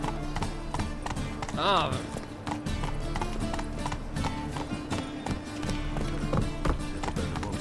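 Hooves of the horse Roach clip-clop at a steady run in The Witcher 3, a close rhythmic beat under game music and a brief voice.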